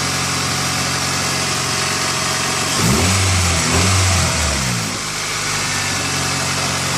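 The 2000 Honda CR-V engine idles loud and close after a misfire repair, steady and smooth, with a couple of quick revs rising and falling near the middle before it settles back to idle.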